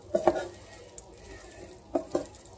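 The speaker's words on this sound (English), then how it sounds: "I'm going to give it a good stir" A spoon stirs food in a cooking pot, giving a few quick scraping knocks near the start and two more a couple of seconds later, with quiet room tone between and no talking.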